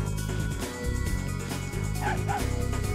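A baby dragon character in the game Spyro 3: Year of the Dragon gives short repeated yapping barks, fairly loud and close over a steady game music background.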